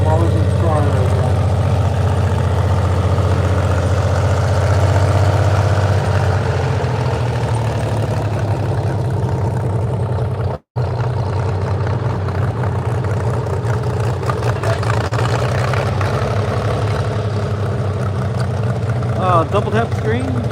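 A tractor-pulling engine idles at the Doughty Valley Fun Pull, a deep steady rumble held for about twenty seconds with one sharp dropout midway, with talk mixed in.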